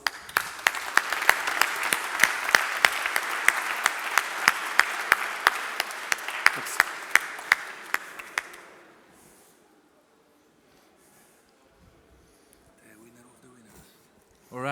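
Audience at a live banking hackathon event breaks into loud, dense applause with sharp individual claps, sustained for about eight seconds before fading to near silence, then a voice starts.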